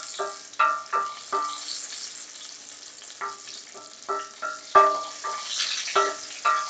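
Chicken pieces for orange chicken frying in hot oil, sharp crackling bursts and sizzles popping in irregular clusters, fairly close, with a steady hiss underneath.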